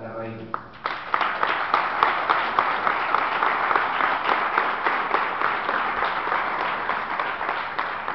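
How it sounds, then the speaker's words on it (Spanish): A seminar audience breaks into loud, sustained applause that keeps going steadily for several seconds. "Invitamos con un fuerte aplauso"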